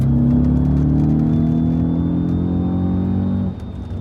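Engine of an Audi RS4 B7 with a six-speed manual gearbox, heard from inside while driving, a loud, steady low drone with rising pitch that eases off abruptly near the end.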